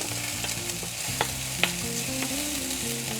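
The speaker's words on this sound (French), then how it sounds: "Il faut laisser griller un peu la saucisse pour que ce soit encore plus parfumé." Chinese sausage fries in a pan for Cantonese fried rice, a steady close sizzle with occasional light clinks and pops from stirring.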